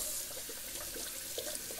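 Tap water running steadily into a sink to rinse shaving alum off, a continuous soft splashing hiss heard alone at close range.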